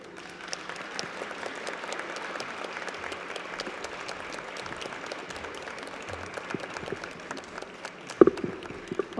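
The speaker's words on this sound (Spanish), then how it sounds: "Vamos a recibir con un fuerte aplauso a nuestra queridísima Ana Mar Orihuela." An audience at a book fair presentation breaks into sustained applause to welcome an author, dense steady clapping from a crowd filling the room, ending with a few louder claps and a microphone bump.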